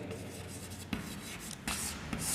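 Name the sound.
writing by hand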